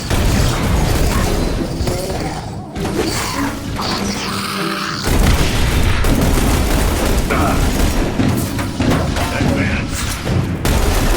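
Loud video-game gunfire from XCOM The Bureau: Declassified, with bursts of shots, booms and crashing impacts filling the whole stretch, layered with game sound effects and briefly cut off midway.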